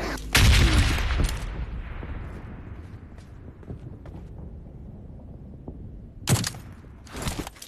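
SCAR-L rifle gunfire in a video game: a loud close burst of rapid shots at the start, a quieter stretch of scattered distant pops, then another sharp burst near the end.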